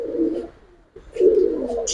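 Giribaz pigeons cooing, a pair of short soft coos with a brief pause between them, close and clear.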